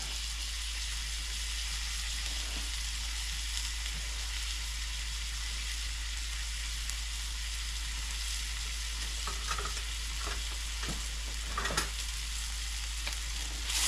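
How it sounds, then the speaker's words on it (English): Shiitake mushrooms sizzle steadily in a hot pan, with a dense, even frying hiss and a few scraping stirs near the end, no voices. "Then we're going to throw all the mushrooms in there."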